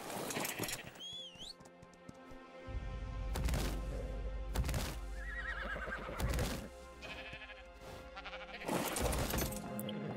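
Sheep bleat repeatedly in a game world with a distant whistle-like call, several overlapping cries rising and falling over a low rumble, fairly faint overall.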